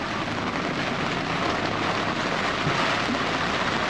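Heavy rain pours down in a storm during a walleye fishing trip, making a dense, unbroken roar of drops hitting surfaces that stays loud and steady throughout, with no voices.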